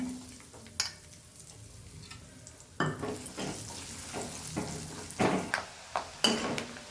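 Coconut pieces fry with masala in a pan, giving a steady sizzle, while a utensil stirs and scrapes at intervals with a few sharp clinks, close and moderately loud.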